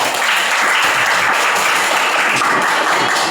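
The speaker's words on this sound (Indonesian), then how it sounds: "Tepuk tangan." A classroom of students applauds, a dense, steady burst of clapping that stays loud and even throughout, with no talk over it.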